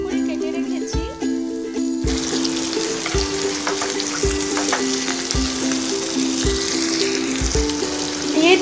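Diced square capsicum hits hot oil over a high flame and sizzles loudly and steadily, with dull thumps of stirring recurring through the frying.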